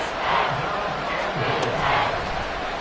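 A stadium crowd roars in a Madden football video game, a dense, loud, sustained wash of cheering that swells and dips slightly over a few seconds with no clear voices.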